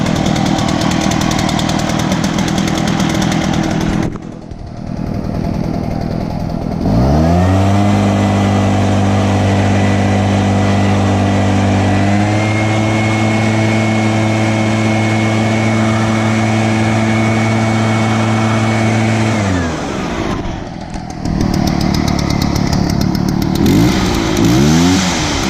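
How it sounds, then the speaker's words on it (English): An Echo leaf blower engine roars to life and runs steadily at a loud, constant pitch, steps up to a higher speed partway through, then cuts off, with other engine noise before and after. "this has been a very reliable blower"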